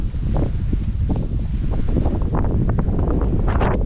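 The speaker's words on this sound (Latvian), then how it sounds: "liels vējš ir" Strong wind on the Madeira coast buffets the microphone in a constant roar, with gusty rustling and a faint wash of surf beneath it.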